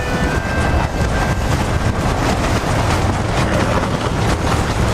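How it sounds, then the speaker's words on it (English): A train rolls along in the Western video game Red Dead Redemption, a continuous rattling rumble with clattering wheel beats and wind-like hiss, loud and steady with no voices. "Come on, the train is waiting."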